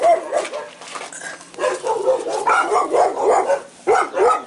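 Two dogs next door bark and yip in rapid, uneven bursts, fairly close and loud, with whining tones mixed among the barks.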